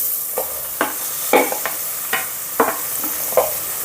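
About 200 grams of thinly sliced onions are stirred into frying masala for a country chicken curry. Sharp scraping strokes repeat roughly every half second over a bright, close sizzle.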